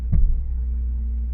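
2005 Hyundai Santa Fe with a 2.7 V6 engine giving a brief rev, a short near burst of engine roar that settles back into a steady low idle rumble, with no talking.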